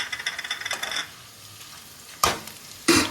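Whole garam masala spices hit a pan of lightly fried potatoes with a crackling sizzle that fades after a second, followed by two short, sharp stirring scrapes.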